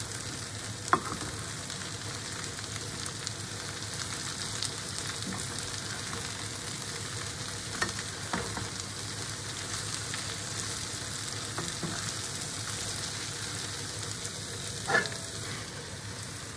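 Sliced zucchini, salted and peppered for a gratin with ravioli, fries in a pan with a soft continuous sizzle, broken by a few faint scraping stirs.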